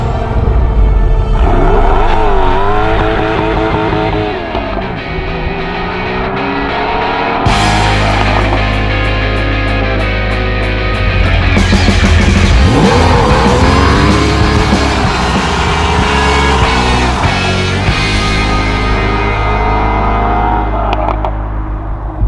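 A Porsche 911 of the 993 generation drives and accelerates, its engine note rising and falling through the gears with a steady loud rumble, while music plays over it throughout.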